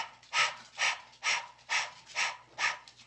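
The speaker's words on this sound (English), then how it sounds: "Right on cue, there's the dog." A dog in a room during a yoga session makes six evenly spaced breathy huffs, close and fairly loud, like rhythmic panting or soft woofs repeating about every half second, alone without talk.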